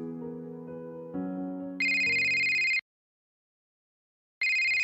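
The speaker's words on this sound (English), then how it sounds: "My phone rings as I slow to a halt underneath a street lamp." A phone ringtone in a Doki Doki Literature Club mod: a short melodic chime rising in steps, then a bright sustained ring that stops, pauses and starts again, clear and alone.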